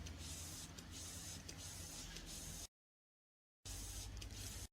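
A steady hissing spray runs for a few seconds, stops abruptly into silence, then resumes briefly with the same even hiss.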